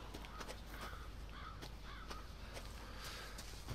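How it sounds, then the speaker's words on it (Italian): Crows caw repeatedly in a swampy outdoor area of the survival horror game Resident Evil 7, their harsh calls coming in several bursts over a steady ambient background with no talking. "Ok, i corvi schifosi."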